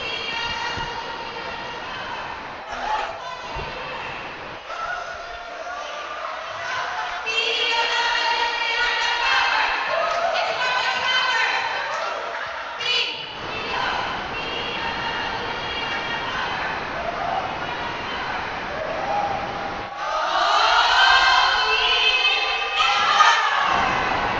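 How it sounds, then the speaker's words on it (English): Fandom Exporters cheer squad at a BR Sports 2019 opening ceremony chanting in unison, rhythmic shouted phrases in bursts separated by brief pauses, loud and close, with crowd noise behind. "you're listening to Fandom Exporters with their cheer."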